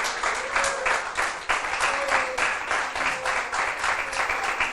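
A church congregation claps in a loud, sustained burst of rhythmic applause with strong, regular pulses, and a voice comes through faintly underneath.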